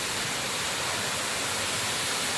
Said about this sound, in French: Je viens d'arriver à la cascade